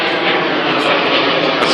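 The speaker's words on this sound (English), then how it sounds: "That's a plane overhead." Broad, steady roar of an airplane passing overhead near a Metrolink station during a lightning storm, loud and continuous throughout with no talk.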